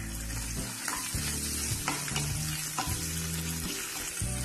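Green chilli and pepper frying in hot oil for khara pongal, a steady close sizzle broken by occasional stirring clinks and scrapes.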